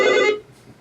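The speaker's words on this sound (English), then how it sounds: "Take the phone off the hook." A telephone bell rings once, loud and close, in a quiet room, then cuts off and leaves low room noise.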